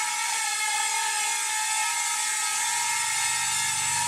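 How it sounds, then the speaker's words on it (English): A Simrex X300C mini drone hovers and pivots nearby, its small propellers giving a steady, loud, high-pitched buzzing whine with a slight change in pitch as it turns. "Pivoting the drone, I should say."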